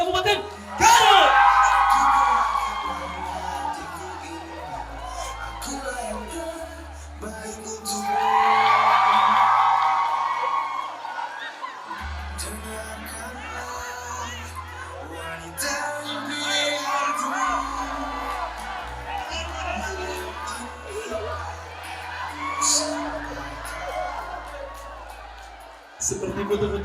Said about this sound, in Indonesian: Beri tepuk tangan kepada Sekretariat DPRD Kabupaten Garut